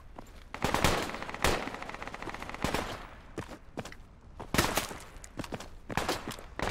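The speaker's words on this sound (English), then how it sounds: "Oh, machine gun northwest." Machine gun fire in Project Reality during a downtown urban raid, with repeated bursts of automatic fire, some sharp and close and others more distant, spread across the whole stretch with no talk.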